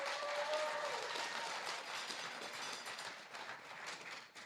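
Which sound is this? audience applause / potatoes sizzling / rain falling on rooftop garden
audience applause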